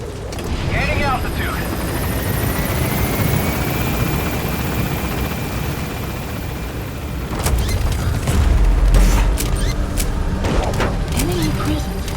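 Helicopter gaining altitude in the Metal Gear Solid V game, a loud continuous rotor roar with deep thumps swelling midway, under radio voices.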